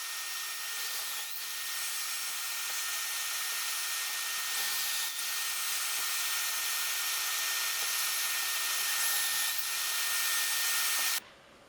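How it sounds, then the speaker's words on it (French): A cobalt drill bit bores through wood held in a Kreg jig, giving a steady, loud, continuous whine with faint scraping that runs nearly twelve seconds before cutting off abruptly. "la mèche au cobalt qui, vous avez vu comment que ça perce bien"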